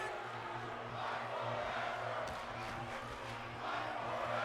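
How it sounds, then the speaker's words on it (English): Crowd at a live independent wrestling show, on their feet and chanting in unison, a dense roar of many voices with rhythmic pulses, and a sharp thud partway through. "The crowd on their feet chanting "Fight Forever.""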